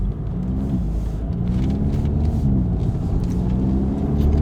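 Deep, throaty exhaust of a Volkswagen GTI with an MBRP 3-inch cat-back exhaust droning as it accelerates onto a highway through the gears, pitch rising and dropping with each shift, heard steadily from inside.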